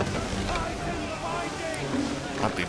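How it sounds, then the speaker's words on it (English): Ocean waves and wind surround a sailing ship in Assassin's Creed 3, a steady rushing wash of surf and blustery wind noise that stays fairly loud and continuous throughout. "Look at those waves!"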